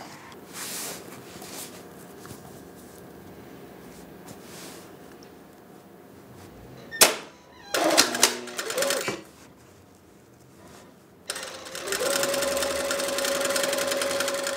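An electric sewing machine stitching wedding dress fabric in a bridal workshop, running in short bursts with pauses, then a steadier sustained whirring run toward the end, fairly close and alone without talk.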